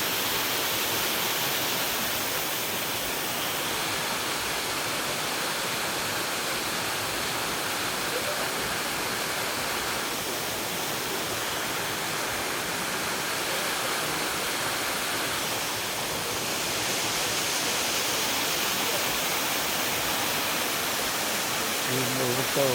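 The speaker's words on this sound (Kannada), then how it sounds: "ಇಲ್ಲಿ ಫಾಲ್ಸ್ ಇದೆ." A waterfall rushes with a steady, dense hiss that stays even and fairly loud for the whole stretch, without breaks.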